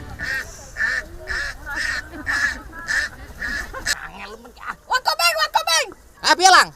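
Ducks quacking outdoors in a Javanese village, a run of regular honking calls, then louder, more scattered bursts, with people talking in between.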